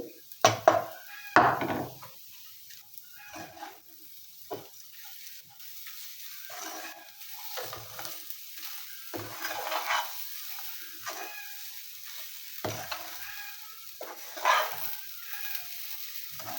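Lachha semai fries on low heat with raisins and nuts while a utensil scrapes and stirs, giving soft intermittent sizzling and a series of clattering, scraping strokes close by.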